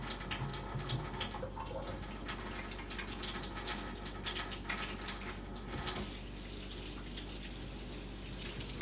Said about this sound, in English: Wash your hands thoroughly.